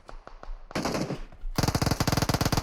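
Rapid automatic gunfire in PUBG Mobile, a few scattered shots and a dense burst first, then a long fast rhythmic string of loud close rounds, with no talk over it.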